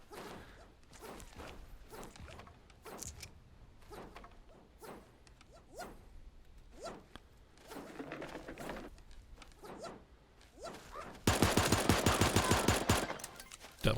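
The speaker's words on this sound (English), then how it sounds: "Double pistol action." Dual pistols fire in a video game: scattered single shots and short bursts, then a loud, rapid stream of shots near the end, with other game effects in between.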